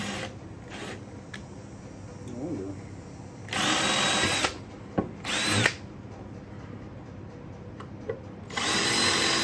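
A power sander works on a part from a red two-seater roller build, coming in as several loud, close bursts of whining that start and stop, with quieter gaps between them.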